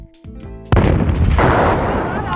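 A strategic target blown up in Bungie's Operation: Desert Storm game: a brief tonal game jingle, then a sudden loud crunching explosion that rumbles on and decays slowly, with a second surge of blast noise partway through.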